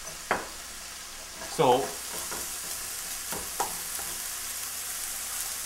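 Meat for mapo tofu stir-fries in a pan, giving a steady soft sizzle with a few scraping stirs and clinks, while someone briefly speaks.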